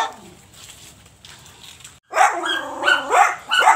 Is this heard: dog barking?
yes